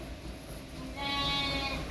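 A sheep from a flock lets out one drawn-out, wavering bleat midway through, fairly close and clear over a steady outdoor background hiss.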